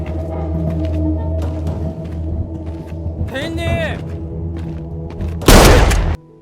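A single loud, booming gunshot blasts out near the end over a low rumbling soundtrack from the film Train to Busan, following a brief warbling tone.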